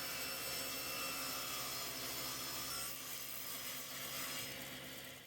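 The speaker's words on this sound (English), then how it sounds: "I'm just going to run this through my table saw" A table saw trims the edges of a wood and purple epoxy chess board, giving a loud, steady whine with broadband cutting noise that runs continuously for about five seconds, slightly easing toward the end.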